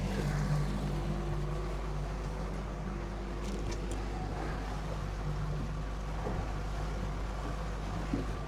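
The engine of a fishing boat runs steadily on the water during its run-in, a constant low, rumbling drone with faint splashing over it.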